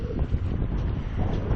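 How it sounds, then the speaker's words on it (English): Strong, blustery wind buffets a GoPro microphone outdoors in a high, exposed spot, a continuous loud low rumble with gusty surges and no talking. "Hear the wind?"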